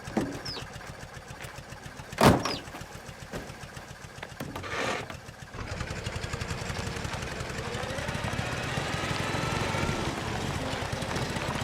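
A car engine in Mafia: The Old Country, a steady motor drone that builds and holds as the vehicle gets under way, with a sharp knock early on and a low buzzing hum throughout.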